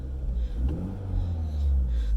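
A Scion's engine fitted with a HIKEIT X9 throttle response controller rumbles and climbs in revs as the pedal is pressed, a low steady drone rising toward the end, close and fairly loud.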